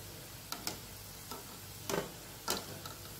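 Spinach samosas frying in oil over medium heat, a soft, even hiss broken by a few light clicks and scrapes as they are turned. Quiet and close.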